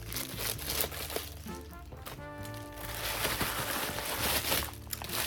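Amazon package being unboxed with scissors, close crinkling and crumpling of packaging with brief snips and rustles, no talking.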